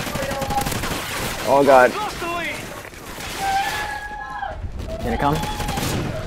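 Rapid gunfire bursts from Call of Duty: Ghosts multiplayer, including an SC-2010 rifle, crackle through the game mix while a player talks over the shooting.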